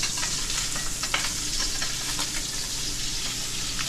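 Redfish frying in a hot pan with butter and olive oil, a steady, close, continuous sizzle with a few soft stirring scrapes over it.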